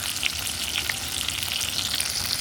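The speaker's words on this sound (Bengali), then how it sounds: "আর একটু হালকা হালকা ভেজে নামিয়ে নেব" Eggplant and egg fry in a pan, a steady, close sizzle with a soft crackle that holds evenly throughout, no voices.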